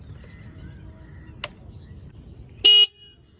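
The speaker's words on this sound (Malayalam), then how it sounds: "അപ്പോൾ ഇതിൻ്റെ ഹോൺ എങ്ങനത്തെയാണെന്ന് നമുക്ക് നോക്കാം." Horn of a Triumph Street Triple Moto2 motorcycle gives a single short, loud honk after a few seconds of steady insect buzzing and a faint click, then the outdoor quiet returns.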